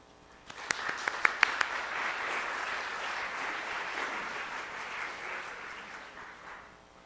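An audience at a Colonial Dames lecture breaks into steady applause to welcome the lecturer, beginning with a few sharp individual claps and swelling into sustained clapping that fades away near the end.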